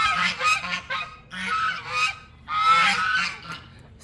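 Poultry calling from a farm flock of chickens and roosters: loud, harsh honking calls in repeated bursts, close by and overlapping, with no talk.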